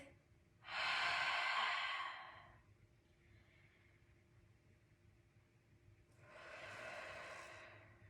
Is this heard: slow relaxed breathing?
yes